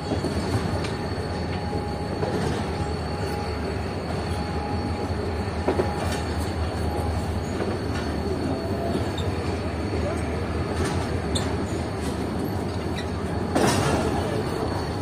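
A train rolling on rails with a steady loud rumble, wheel squeals and metallic clicks, continuous throughout, near Rohri.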